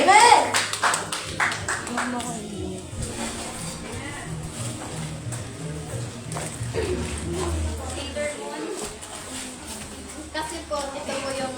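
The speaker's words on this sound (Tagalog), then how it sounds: "palakpak po sa buhay ni Keisha" A congregation claps during a Sunday church service, the clapping mixed with sustained keyboard-like music and people talking throughout.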